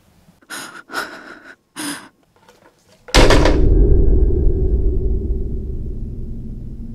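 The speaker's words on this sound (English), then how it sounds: "I think I heard someone breathing." A few breathy gasps come faintly over an old telephone line, then a sudden loud clunk gives way to a fading low hum.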